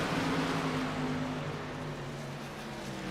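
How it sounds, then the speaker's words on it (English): Truck engines racing in a video game truck series on a small track, a steady droning roar with a sustained engine tone throughout, loud and continuous with no talk. "Let me know if it's still a little too loud with the engines."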